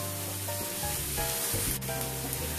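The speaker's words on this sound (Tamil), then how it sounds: "நல்லா வெங்காயத்தை வதக்குங்க. வெங்காயம் வந்து நல்லா ப்ரௌனிஷ் ஆகணுங்க" Onions sautéing in a pan for chicken curry, browning with a steady close sizzle and soft stirring scrapes, continuous and without talk.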